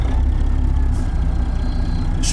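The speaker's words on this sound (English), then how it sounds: "it's okay driving this 500 horsepower engine" Heavy 500-horsepower truck engine idles in American Truck Simulator, a steady low rumble that stays loud and close throughout, with no talk over it.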